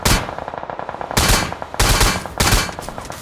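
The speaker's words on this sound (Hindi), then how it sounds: "देखना एक साथ पूरी स्क्वाड कैसे फायर करती है" A squad fires together in the battle royale game PUBG Mobile, giving loud, close bursts of rapid automatic gunfire in three clustered volleys with brief gaps between them.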